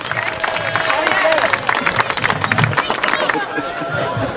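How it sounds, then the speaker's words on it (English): Outdoor crowd at a seaside summer games event in Lyme Regis applauds and claps, with babble and scattered voices over steady clapping that holds for several seconds. "Give them a big round of applause."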